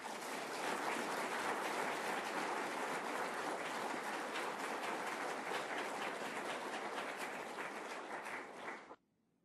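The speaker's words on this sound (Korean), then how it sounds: "참부모님을 힘찬 박수로 모시겠습니다." An audience at a Unification Church Cheongpyeong hoondokhae gathering claps vigorously to welcome True Parents: dense, sustained applause filling the room for about nine seconds before stopping abruptly.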